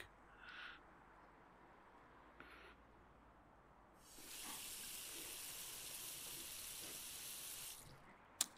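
Water from a kitchen sink tap runs in a steady, bright hiss for several seconds, close and fairly quiet, beginning midway after a few short taps and clinks in a quiet room.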